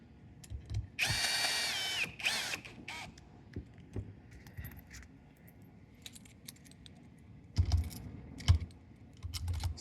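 A power screwdriver drives screws into a Pro Spindle Upper X cap, with a couple of short high-pitched whirring bursts early on, then quieter clicks and handling noises, and two more brief tool bursts near the end.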